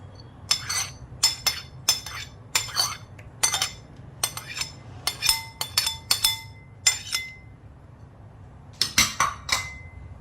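Garlic, onion and chilli being mixed together in a bowl while making litti, with repeated sharp clinks of a utensil against the bowl in uneven bursts, close and fairly loud over a low background hum.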